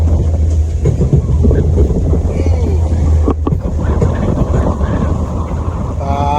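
A squall blows hard over a sailboat at sea, a steady loud roar of wind buffeting the microphone over a low engine drone, with a brief voice heard faintly.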